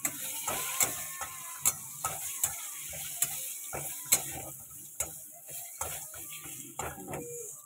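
Grated ginger, bay leaf and dried red chilli fry in oil in a pan, a soft sizzle punctuated by regular sharp scraping clicks of a spatula stirring, close and fairly quiet.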